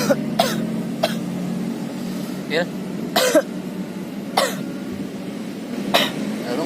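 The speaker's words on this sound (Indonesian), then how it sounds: "gue batuk mulu kagak sembuh-sembuh" A man coughs again and again, short harsh bursts spaced every second or so, close to the microphone over a low background hum, and a voice briefly speaks.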